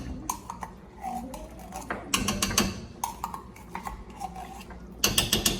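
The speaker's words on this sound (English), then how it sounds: "I'm going to stir it" Tomato paste being stirred in a pot for goat meat jollof rice, with repeated scraping and knocking strokes at a steady rhythm, close by and fairly loud, under ongoing kitchen noise.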